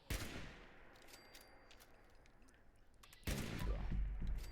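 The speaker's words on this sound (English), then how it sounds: "you can just 2-shot the legendary with your sniper rifle" Sniper rifle fire in the video game Fallout 76, with a sharp broadband shot near the start and a louder burst of blasts in the last second, set over a low game ambience, with a brief spoken remark.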